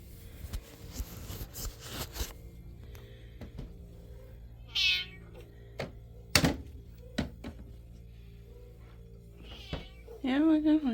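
Indoor house cat meowing a few times in short, clear cries spread across the stretch, mixed with soft thumps and taps, and a person talking nearby.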